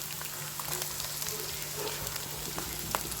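Dry onions and green onions sizzle in hot oil over ginger-chili-garlic paste, a steady close crackling fry with scattered sharp pops.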